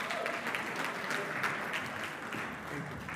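Audience applause fills a conference hall at a future-of-work dialogue, a dense, even wash of clapping from many hands that holds steady and fairly loud throughout the short stretch.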